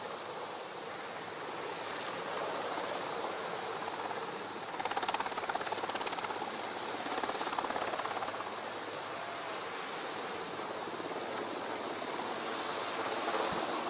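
A military helicopter at an Indian Navy Day demonstration in Visakhapatnam, extracting marine commandos, gives a steady broadband rotor and engine roar, swelling slightly midway and holding throughout with no talk.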